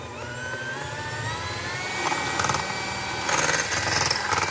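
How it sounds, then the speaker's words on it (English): A handheld electric mixer whirs steadily in a bowl of fudgy chocolate frosting, its motor whine shifting in pitch, then grows louder and rougher with clattering bursts as the beaters work the thick mixture. "I'm going to take my handheld mixer here and turn it on"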